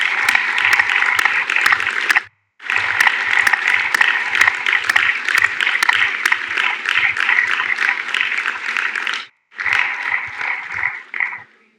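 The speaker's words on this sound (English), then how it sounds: "offering a round of applause to family and" Sustained round of applause from an audience of new members, family and friends at a Royal College of Physicians of Edinburgh admission ceremony, dense and loud, with two brief breaks before it fades out.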